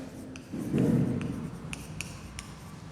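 Teacher writing a question on a board, a brief rubbing scrape followed by scattered light tapping strokes of chalk or marker, close and fairly quiet, with no talking.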